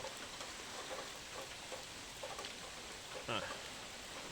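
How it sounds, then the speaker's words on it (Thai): Steady rain falls throughout, a constant hiss of drops with a voice faintly in the background. "ฝนตกใช่มัน มันตกบ่จัก"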